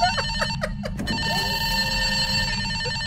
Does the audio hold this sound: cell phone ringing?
yes